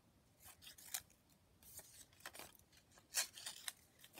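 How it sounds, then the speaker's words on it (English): Scissors snipping through a stack of paper word cards, a quick irregular series of short, crisp cuts close to the listener, with a louder snip near the end and no talking. "Put them together and snippety snip."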